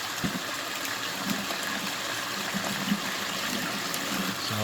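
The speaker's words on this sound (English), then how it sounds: "the fine stuff that I'm running here, I like to run it high speed water flow." Steady, full rush of fast-running water through a basement gold panning sluise setup, a continuous broadband flow with faint splashes and no talk.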